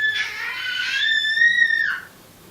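A person screams loudly and continuously for about two seconds, a high sustained cry with rising pitch that cuts off abruptly, leaving quiet background.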